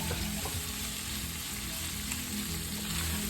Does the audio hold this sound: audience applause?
no